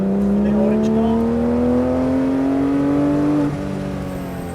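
A Porsche GT3 RS accelerating on a race track, its engine note climbing steadily and loud from close by, then easing off near the end.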